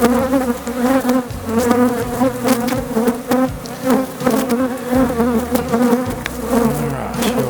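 Honeybees being rescued during a hive transfer with brood frames, a loud close buzzing of many bees with wavering pitch and pulsing intensity, continuous and without talk.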